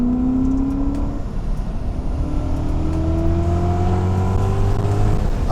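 A BMW E34 540 V8 revs up after a downshift on a canyon run, a steady loud engine drone with rising pitch sweeps as it climbs through the gears, heard from inside the car without talk.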